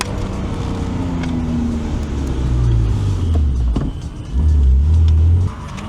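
Car engine revving hard during drift training at Madžiūnai, close and loud, with the pitch repeatedly climbing and dropping as the throttle is worked.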